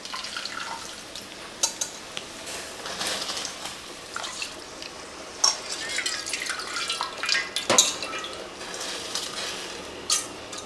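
Rice being tipped into a pot of boiling water, with soft splashing, watery trickles and a few clinks from the pot, all moderately quiet with faint room noise.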